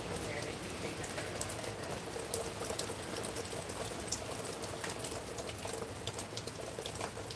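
Heavy rain from Hurricane Helene falls steadily outdoors on a homestead at night, a dense, continuous hiss and patter with wind-tossed trees, loud and unbroken throughout with no voices.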